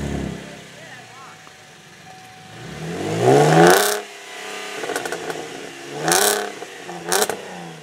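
A Camaro's aftermarket exhaust at a Caffeine and Octane car show in Atlanta rumbles steadily, then swells through several sharp revs, loud and close, with people talking nearby.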